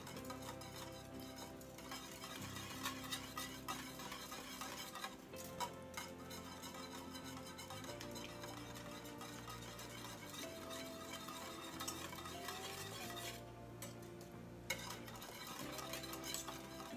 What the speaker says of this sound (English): So now we have our egg white, so we're going to slowly mix it in so that it can mix in and cook nicely.